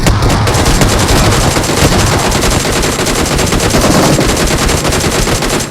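Rapid automatic gunfire from a PUBG / BGMI battle fills the whole stretch, loud and continuous with dense bursts and no pauses, and no voices over it.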